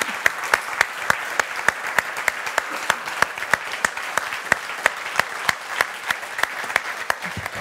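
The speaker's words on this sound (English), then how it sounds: "we owe a big round of applause." Sustained applause from a conference audience after a political interview, dense and even clapping with frequent crisp individual claps standing out near the front.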